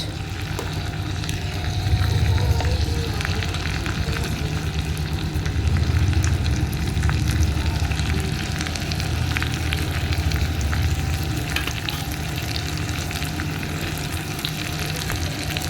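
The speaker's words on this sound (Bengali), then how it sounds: "এবার আলুতে দিয়ে দেব কুচিয়ে রাখা পেঁয়াজ" Potatoes and chopped onion fry in hot oil in a home kitchen, a steady, loud sizzle that swells and eases over about fifteen seconds with faint stirring underneath.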